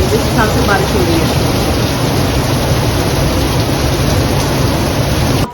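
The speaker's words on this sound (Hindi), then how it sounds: "भाई इतनी जोर शोर से बारिश हो रही है, बहुत तेज वाली" Heavy, very intense rain pours down as a steady, loud, dense roar across the whole stretch, with no break.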